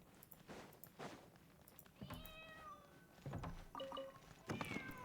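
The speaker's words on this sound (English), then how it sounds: "I can hear the cat's cries a bit clearer now" A cat meows repeatedly from behind a painting inside the video game Genshin Impact, several clear, fairly close cries spaced over a few seconds with faint game ambience and soft thuds between them.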